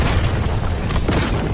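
A soul guide elemental bomb explodes in the animated series Soul Land 2, a dense, loud, sustained rumbling blast with no let-up.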